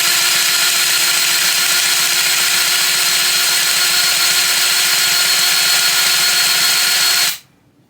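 A battery-powered tool packs fresh grease into an RV wheel bearing, running as one loud, steady, close whir for about seven seconds before cutting off abruptly into near silence.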